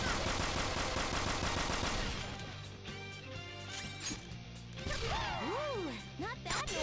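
Gunfire from the video game Persona 5 Royal, dense rapid shots and impacts layered over game music and effects, loud and continuous, with a voice talking over the action.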